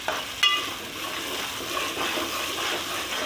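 Fish curry stirred in a pan, a soft steady sizzle and bubbling simmer with a brief utensil scrape near the start, close and without talk.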